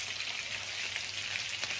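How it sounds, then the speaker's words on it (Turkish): Food sizzles steadily in a frying pan in a home kitchen, a continuous crackling hiss at moderate volume with no voices. "Evet annem, bakalım kızartmaya devam ediyor."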